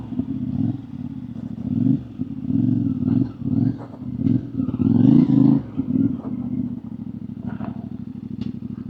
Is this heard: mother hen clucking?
no